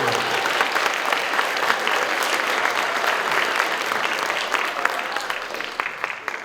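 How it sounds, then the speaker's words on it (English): Applause from a middle school band concert audience, a full, continuous burst of clapping that stays loud and then begins to taper slightly at the end. "Another round of applause for the great work of Mr."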